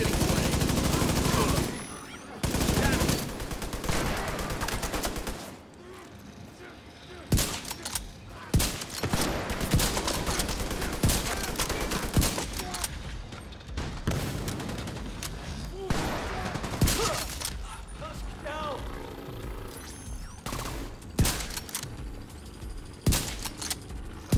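Heavy bursts of automatic gunfire and scattered single shots from The Division 2 fill the scene, loud and close, in dense volleys broken by brief pauses, with voices shouting over the shooting.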